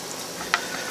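Canned biscuit donuts fry in hot oil with a soft, continuous sizzle and one brief louder pop.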